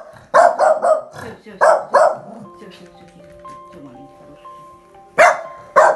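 A small dog barks in several sharp bursts close by, with a final bark after a pause, in a home in the Donbas border area while people talk around it.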